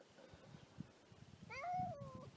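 Fergus the cat gives a single drawn-out meow close by in a quiet garden, rising and then falling over about a second.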